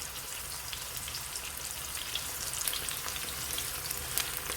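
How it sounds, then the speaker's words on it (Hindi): Onions frying in a pan for village-style urad dal mash, giving a steady, dense sizzle that runs evenly throughout with light crackling pops on top and no voices. "प्याज को हम ज़्यादा ब्राउन नहीं करेंगे, बस लाइट सा ब्राउन करेंगे।"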